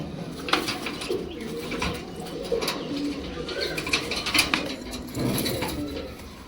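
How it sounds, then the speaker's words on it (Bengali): A pair of white Bombay pigeons coos steadily and close by, soft rolling calls repeating over a low rustle, with an occasional flutter and no talking. "আরও এক পেয়ার সাদা বোম্বাই কবুতর"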